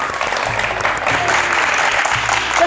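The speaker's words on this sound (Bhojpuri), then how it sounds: "और एक थे झन्नाटेदार ताली हो जाए अपने खातिर।" Audience applause welcoming folk musicians on a televised folk music show, a dense, even burst of clapping from many hands held steadily for a few seconds, close and loud with no talk over it.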